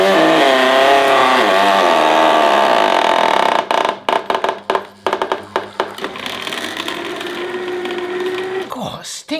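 Loud whirring juicer motor running steadily, then breaking into a series of sharp clattering knocks as produce is fed in, and settling back to a strained hum; a voice is present.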